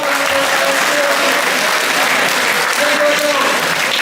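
High school audience at a school assembly breaking into a round of applause, loud sustained clapping from many hands with a few voices mixed in, steady for about four seconds.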